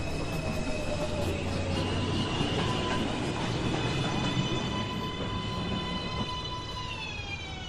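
NYC Subway 2 express train pulling into Beverly Road station, a loud sustained rumble of wheels with rising and falling whining tones as it brakes, continuous and close.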